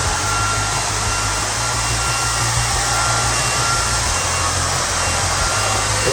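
A Redroad cordless stick vacuum cleaner runs continuously in turbo mode, a loud, steady high-pitched whine and airflow roar close by, with a low motor hum underneath and no pauses.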